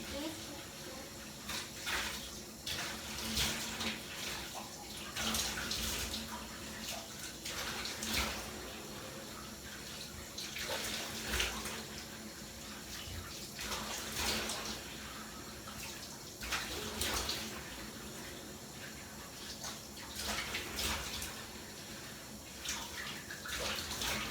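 Tap water runs steadily while a face is rinsed at a sink after a charcoal face mask, a continuous close splashing wash with brief louder surges.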